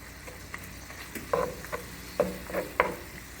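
Sausage meat fries in a pan with flour stirred in, giving a faint steady sizzle broken by a few soft, irregular scrapes and clacks of the spoon.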